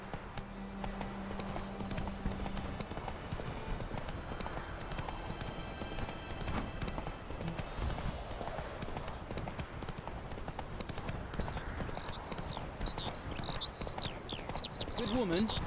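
Geralt's horse Roach from The Witcher 3 trots with steady rhythmic hoof clip-clops on a road, a continuous close beat under in-game ambience, with a brief low whinny-like sound near the end.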